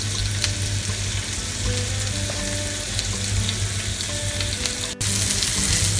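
Chicken tikka pieces frying in a pan, a loud, steady close sizzle with a constant hiss and crackle and a brief dip near the end, no talking.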